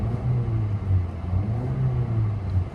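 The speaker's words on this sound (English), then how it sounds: "Let's give it a quick rev." A low Ford Fiesta engine idles and hums close by with the air conditioning on, with a slight rise in pitch as it's revved gently; steady, droning, no voices.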